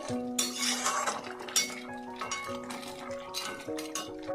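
A lid comes off a pot of lobster leg curry, with repeated clinks and clatter of metal cookware and utensils, close and fairly loud, plus a few ringing metallic tones.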